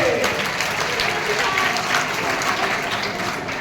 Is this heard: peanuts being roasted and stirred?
no